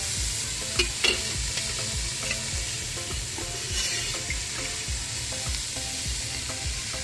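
Finely chopped onions fry in ghee in a pan with a steady dense sizzle and repeated stirring scrapes and taps throughout, no one talking.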